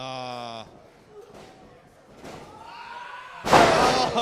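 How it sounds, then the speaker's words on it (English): Heavy thud of a wrestler landing from a suplex in a Combat Zone Wrestling match, a loud single impact near the end after quieter arena sounds and brief voices. "Suplex."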